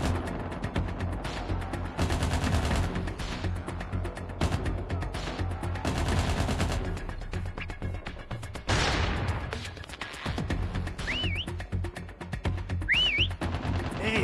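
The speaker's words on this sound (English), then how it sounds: "Next whistle in 10 seconds." Within a Call of Duty Mobile match, dense machine-gun bursts and gunfire dominate, and two short rising whistles sound near the end.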